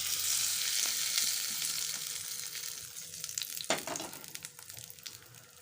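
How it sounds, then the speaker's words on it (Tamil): Tempering spices crackle in hot oil for pirandai thuvaiyal, a loud sizzle that fades, then sharper pops and spatters as the seasoning is poured in. "எண்ணெய் காஞ்சோன்னே எடுத்து வச்சுருக்க தாளிப்பை போட்டுடலாம் இப்போ தாளிச்சதை கொட்டிடலாம்"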